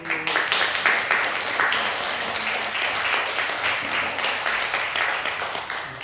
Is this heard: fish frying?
no